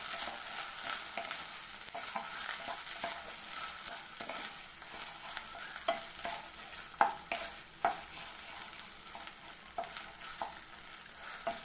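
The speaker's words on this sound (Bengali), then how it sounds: "আমি এখন এটিকে খুব ভালো করে ভেজে নেবো পেঁয়াজের সাথে" Ginger garlic paste and onions fry in hot oil for a masoor dal tadka, a continuous close sizzle broken by repeated scraping and stirring strokes of a spoon against the pan.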